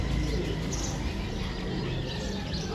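Pigeons cooing in a bird-catching setting, soft low coos and scattered chirps over a steady wind-like background rumble, fairly faint and continuous.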